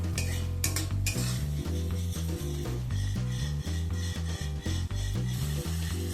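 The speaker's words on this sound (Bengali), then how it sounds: "অল্প কিছুক্ষণ সময় নিয়ে পেঁয়াজ আদা রসুনটাকে একটু ভেজে নেব।" Onion, ginger and garlic paste fries in a pan for a prawn malai curry, with a steady close sizzle and spoon scraping and stirring against the pan, under loud rhythmic background music.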